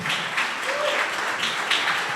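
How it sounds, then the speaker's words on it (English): A conference audience at a global summit gives a round of applause for a team member, steady even clapping from a crowd filling the whole brief moment. "Can we please give him a round of applause?"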